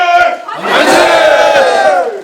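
A large crowd of retired generals and supporters in South Korea shouts a loud, unified "manse" cheer, a sustained chorus of voices that swells and holds before tapering off.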